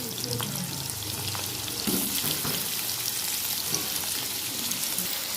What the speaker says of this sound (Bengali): এই যে তেল গরম হয়ে গেছে আবারও এবার এই আলুগুলো ভেজে নেবো